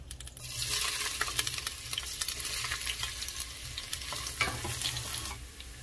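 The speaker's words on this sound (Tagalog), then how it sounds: "ang inuuna ko po sa paggisa ay ang luya" Ginger sautés in hot oil in a pan for tinola, a steady close sizzle with stirring scrapes and clicks, no voices.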